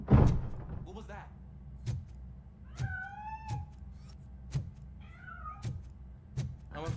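A cat meows repeatedly in a game scene, several distinct rising cries spaced through the clip, with soft thuds and a door-like knock mixed in, fairly close and clear over a quiet background.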